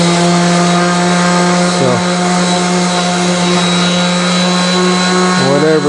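A power tool carves a wooden plaque with a loud, steady, close motor whine that briefly drops in pitch twice as it loads up, and a voice speaks one short word over it.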